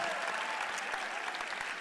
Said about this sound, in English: Can you clap for her?